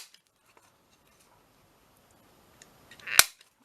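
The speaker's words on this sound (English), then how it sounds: "Nice noisy circle punch." A paper circle punch cutting a corner, one sharp, close snapping click after near silence, with a couple of faint taps just before it.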